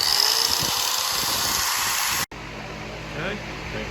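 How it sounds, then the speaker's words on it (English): An angle grinder cuts through a steel Allen key, a loud high whine for about two seconds that then stops abruptly, followed by quieter handling noise. "This is the Allen key that I'm going to shorten, and the angle grinder."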